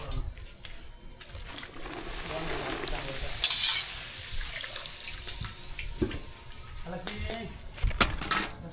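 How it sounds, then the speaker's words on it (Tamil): Papadums fry in hot oil with a steady crackling sizzle, accompanied by occasional scraping and clattering of utensils in a busy kitchen. "அப்பளம் பொரிச்சு எடுத்துக்கலாம்"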